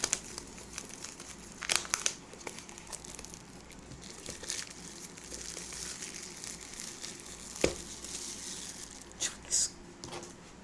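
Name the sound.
peeling packaging off OnePlus Bullets Wireless Z box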